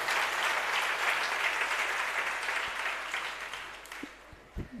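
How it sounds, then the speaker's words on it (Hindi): Audience at a religious discourse clapping in a dense, steady burst of applause that fades toward the end, with a few stray claps as it dies away. "तालियां तो हमने बहुत सुन ली"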